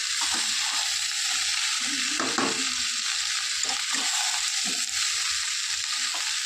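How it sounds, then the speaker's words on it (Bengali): Spices for an amla pickle sizzle in hot oil as they are stirred, a steady, loud frying hiss with soft scraping strokes from the pan, and no voices. "হালকা হাতে নাড়বো, খুব বেশি ভাজবো না, একটু নেড়ে চেড়ে নুন হলুদ সব একে একে দিয়ে দেবো।"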